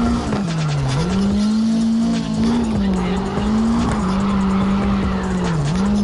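A car drifting in the racing game CarX Drift Racing: a loud, continuous engine drone wavering in pitch under sustained tire squeal, with a few faint words spoken over it.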